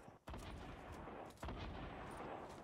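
Heavy gunfire from a shooter video game, dense sustained bursts with loud onsets at the start and midway, continuing without pause and filling the whole stretch.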